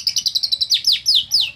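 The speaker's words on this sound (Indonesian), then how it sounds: "lovebird suara kenari" A lovebird sings a canary-like song, opening with a fast even run of about nine sharp chirps, then sweeping into several longer, swooping whistled notes, loud and close with nothing else audible.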